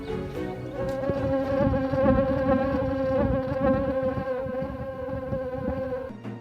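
A dense swarm of some 15,000 mosquitoes being released, producing a loud, continuous, whining drone with layered buzzing tones that swells and holds steady for several seconds, close up with no talk.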